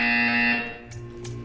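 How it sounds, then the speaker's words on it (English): Buzzer from the video game Portal 2: a loud, steady electronic tone with strong harmonics that holds for about half a second and then cuts off, leaving quieter background sound. "You will hear a buzzer. When you hear the buzzer, stare at the art."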